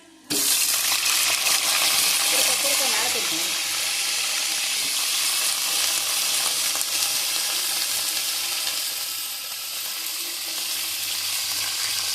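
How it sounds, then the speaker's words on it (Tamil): Quartered brinjal sautéing with fenugreek seeds in oil for a village-style kuzhambu, a sudden loud burst of sizzling as it hits the pan, then a sustained close frying hiss with occasional stirring. "கத்திரிக்காவை அந்த வெந்தயத்தோடு போட்டு நல்லா கொஞ்சம் பொன்னிறமாக ஆகிற வரைக்கும் வதக்குறோம்"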